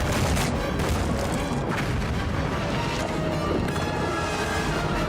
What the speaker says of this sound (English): it's safe to say no one survived that explosion